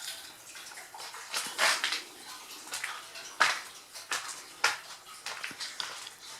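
Water from a borehole pump runs steadily into an indoor storage tank, a faint continuous splashing hiss with a few louder gurgling surges, heard close with no talking.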